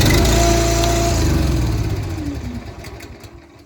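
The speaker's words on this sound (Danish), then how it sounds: "ved at starte Honda-motoren" Honda petrol engine on an Easy-Lift RA15 lift running steadily at a loud, close idle with a low, even drone, gradually easing off in level toward the end.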